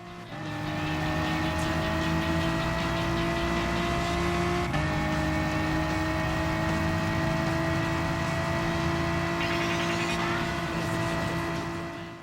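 Race car engine from Gran Turismo Sport holding a steady high drone with layered harmonic whine, loud and continuous throughout, with a brief gear-shift dip midway and a rising rev near the end.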